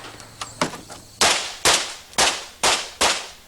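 Pistol shots from Rob Leatham at the 1989 USPSA National Championships: a few lighter distant pops, then five sharp, loud shots in a steady rhythm about half a second apart.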